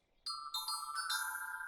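Cartoon bell sound effect from a children's animated show: several bright, clear chimes struck in quick succession, each ringing on and overlapping the last, with no voices.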